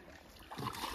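A person jumps into a river during the monsoon, and a broadband splash of water surges up in the second half, close and moderately loud, with no talking.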